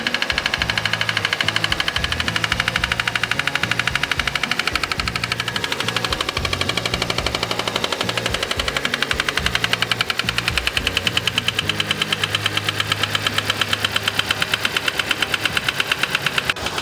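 A running car engine with a rapid, rhythmic metallic knocking beating steadily throughout, loud and close, with no talking.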